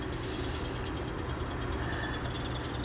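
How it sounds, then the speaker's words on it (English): A steady low rumble of an N scale model train rolling past at a distance, a constant broad roar with no voices. "there's a train going by"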